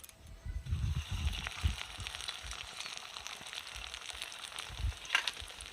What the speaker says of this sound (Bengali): এবার আমি গোলাপ জামুনগুলো ভেজে নেব। তার জন্য কড়াইতে দিয়ে দিলাম সাদা তেল।